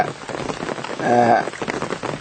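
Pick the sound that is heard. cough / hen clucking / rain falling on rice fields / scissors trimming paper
rain falling on rice fields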